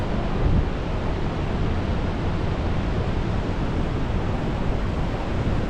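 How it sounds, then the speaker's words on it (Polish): Massive roar of water pouring over the wide cliffs of Victoria Falls on the Zambezi, a dense, steady rushing wash with no breaks, loud and continuous throughout. "to po prostu płynie woda z każdej ściany"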